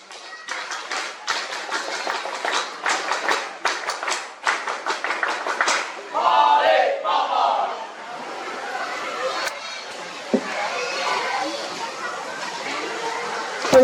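Scouts at a regional scout skills competition closing ceremony do the rhythmic scout clap, a burst of sharp unison claps for several seconds, followed by crowd chatter and murmuring.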